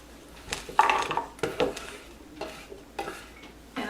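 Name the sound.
cabbage leaves being placed into a cooking pot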